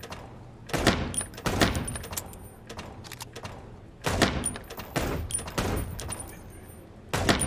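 Reloading and shooting in the video game Chicken Police: bursts of sharp gunshots alternate with clunky mechanical reload clacks and thuds in an uneven rhythm, fairly loud and close.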